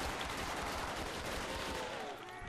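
FN FAL rifle firing in Call of Duty Zombies on the Der Riese map, a dense stream of gunfire blending into continuous battle noise for the whole stretch, loud and near with no pauses.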